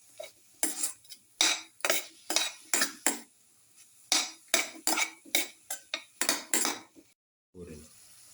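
Spoon stirring curry leaves, green chilies and salt in a pan, giving a steady run of repeated scraping, clinking strokes close up, with a short lower thud near the end and no voices.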